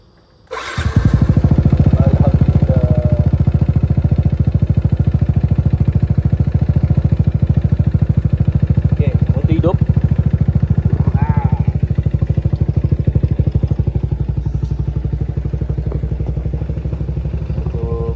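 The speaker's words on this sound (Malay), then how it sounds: "Motor masih hidup," A motorcycle engine, just repaired, starts and then idles loudly and steadily close by, with a low continuous rumble and light mechanical clatter. Someone speaks briefly over it.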